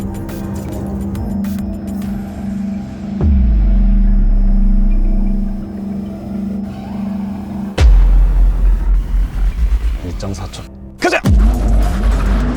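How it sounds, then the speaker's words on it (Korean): A Porsche Taycan electric sports car's drivetrain hums and builds during a launch control start, then surges with deep rumbling bursts of acceleration, with excited shouts over it. "왼발로 브레이크를 밟고 오른발로 악셀을 밟는 순간 런치 컨트롤이 활성화됩니다."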